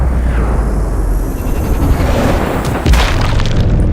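A frag grenade goes off in the Sniper Ghost Warrior video game, a loud, deep boom with rumbling low-end that swells and lingers as a dense roar for several seconds.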